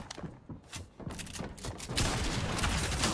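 Gunfire rings out in the video game Fortnite as a quick series of sharp shots and thuds, close and moderately loud, building into a denser burst of rapid firing toward the end.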